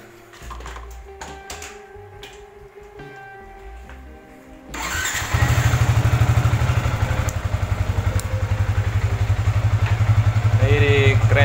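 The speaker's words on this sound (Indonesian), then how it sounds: "Kita coba hidup motor." A motorcycle engine is started after a few seconds of clicking and handling noises, then settles into a loud, steady, rapid putter of idling that continues to the end.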